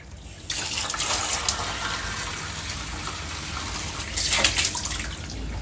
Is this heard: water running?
yes